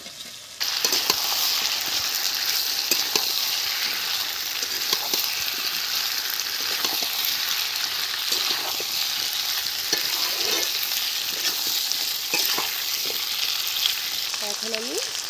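Potatoes fried in a spiced masala of ginger, garlic and onion, a loud continuous sizzle with repeated scraping stirs of a spatula, close by and without speech.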